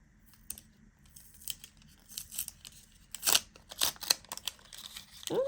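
Paper crinkles and tears in short, uneven bursts, with a few sharp snips and rustles close up in a quiet room.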